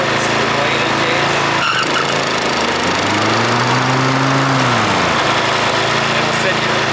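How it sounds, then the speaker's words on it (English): Toro TimeMaster 30-inch push mower engine running steadily with the blades disengaged, a close, continuous hum that briefly rises and dips in pitch partway through. "So I can run this mower without having the blades on."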